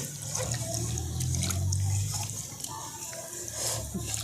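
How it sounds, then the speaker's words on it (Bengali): Water swirls and sloshes softly as tamarind, sugar and spices are stirred together for jal fulki, a faint, continuous liquid churning with a low hum underneath. "এবার সমস্ত কিছু আমি একসঙ্গে খুব ভালো করে জলের সাথে মিশিয়ে নিচ্ছি"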